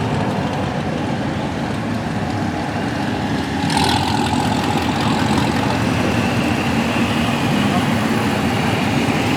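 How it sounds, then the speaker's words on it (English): A supercharged blower-equipped quad car engine runs steadily with a deep, loud rumble amid outdoor night ambience in Mexico, growing slightly louder partway through with a brief rise in revs. "It's a little blower quad right here, I think. Thing sounds really good."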